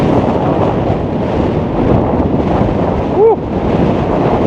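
Storm Bert batters the sea with strong wind roaring across the microphone and heavy surf crashing continuously, a dense, loud rumble with a brief whistling tone partway through.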